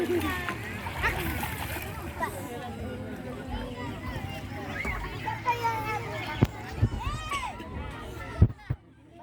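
Water splashes repeatedly as people bathe outdoors at the Muara Pulau Kapuk estuary, with children's voices and lively chatter throughout and a few sharper splashes near the end.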